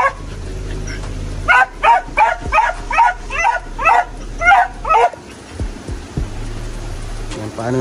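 A dog gives a quick run of about nine loud, close yapping barks, then breaks off into a few softer whimpers over low background hum.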